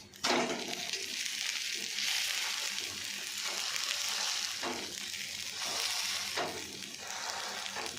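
A rava mixed-vegetable paratha cooks slowly on a pan over medium heat, producing a steady, soft sizzle and frying hiss throughout with no talk.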